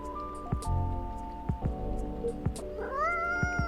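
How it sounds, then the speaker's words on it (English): A cat meows in the video game Coffee Talk 2, with a short mewing call followed by a rising, drawn-out meow near the end, heard clearly over soft, sustained background music tones. "I don't think this is a coffee drinking sort of cat."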